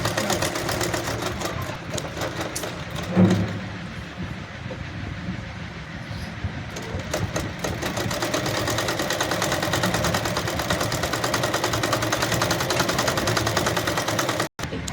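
A tailoring sewing machine stitches a baby cap, its steady mechanical whirr running continuously and fairly loud for nearly the whole stretch, with a brief knock near the start and an abrupt stop at the very end.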